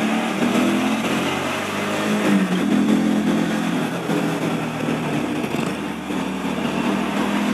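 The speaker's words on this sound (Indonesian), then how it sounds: "mobil-mobil seperti itulah melintas" Cars and trucks, including container lorries, passing on a Sumatran cross-country highway, a continuous loud engine roar and road noise with rising and falling passes, no voices.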